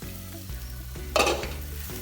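Sliced onions with salt, chili powder, coriander powder and turmeric are stirred in a hot pan for a soya bean curry, giving a steady close sizzle with a sharper scraping burst of stirring midway and no talk.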